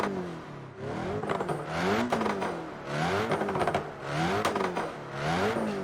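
Repeated throttle blips from a Renault Mégane in Assetto Corsa, the engine note rising and dropping in a steady rhythm of four or five revs, loud and close with a gritty mechanical rasp.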